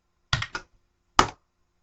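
Keys on a computer keyboard are struck close up in two short bursts, a quick cluster of clacks followed by a single firmer key press after a pause, set against silence.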